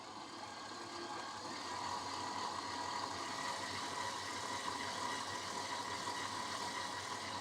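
An electric mixer running at low speed blends flour into a batter, a faint, steady low motor hum with a continuous whirring texture and no voices.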